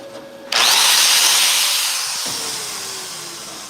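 A flux core welder runs off a 110 outlet, starting abruptly with a loud, steady crackling hiss that fades slightly as the bead continues. It is close and sustained, with no talk.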